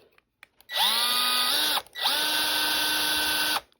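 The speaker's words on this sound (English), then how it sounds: "let's get started by drilling this thing" A power drill whirs loudly in two sustained bursts into a die-cast toy car, revving up and running steadily, with a short pause between them and a few light clicks before.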